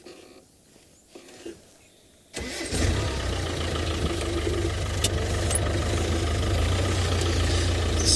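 A safari vehicle's engine cranks and catches after a couple of seconds of quiet outdoor ambience, then settles into a steady, loud, close idle that runs to the end.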